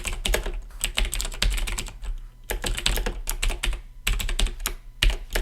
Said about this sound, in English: my keyboard is right next to my microphone